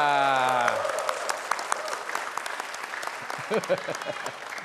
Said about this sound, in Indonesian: Saya kasih kesempatan lagi untuk tepuk tangan dong